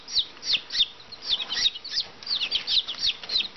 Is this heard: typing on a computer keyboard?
no